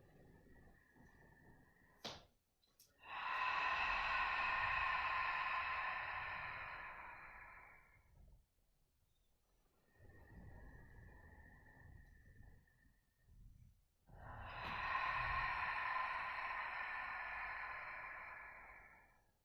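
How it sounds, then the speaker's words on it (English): Two long, breathy 'ha' exhalations from pregnancy yoga practice, each a drawn-out voiced sigh lasting several seconds, heard close and fairly loud with quiet pauses and softer breaths between. "on the exhale, bend the knees, push the hands out to the side. We're going to do that with the ha breath for the next few rounds"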